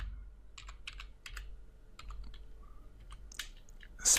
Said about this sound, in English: So type in git space config